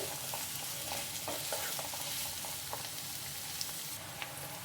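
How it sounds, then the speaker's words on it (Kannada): Chopped onions sizzle steadily in hot oil in a pan as they fry toward golden brown for a chicken gravy, with a few light clinks of stirring over the continuous crackle. "ಚೆನ್ನಾಗಿ ಸ್ವಲ್ಪ ಗೋಲ್ಡನ್ ಬ್ರೌನ್ ಬರೋವರೆಗೂ ಸ್ವಲ್ಪ ಫ್ರೈ ಮಾಡ್ಕೊಳ್ಳಿ"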